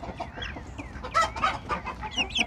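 Chickens cluck and squawk in a coop during cleaning, a steady run of close, overlapping calls with a few louder bursts toward the end.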